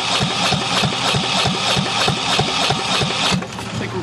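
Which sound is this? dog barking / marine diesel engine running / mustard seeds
marine diesel engine running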